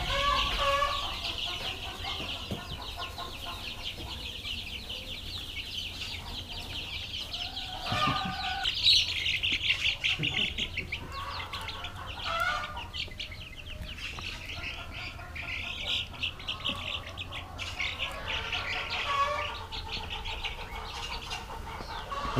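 Flock of chickens clucking steadily on a Mexican organic farm, with many overlapping calls and occasional louder squawks close by, plus brief wing flapping, and no talk over it.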